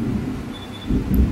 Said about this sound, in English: You hear that? That's the thunder.